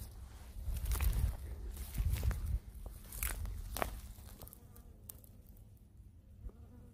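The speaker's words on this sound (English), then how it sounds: "And there's a bee." Insects buzz outdoors on Texas cattle land with cactus, likely including a bee among grasshoppers and other bugs, with a steady droning hum, louder in the first seconds and then fading to a quieter hum.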